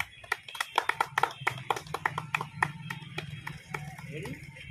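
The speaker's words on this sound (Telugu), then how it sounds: "Okay, claps." A room full of people applauds in quick, uneven hand claps for the start of a filmed event, with close and distant clapping overlapping into a lively patter under faint background hum.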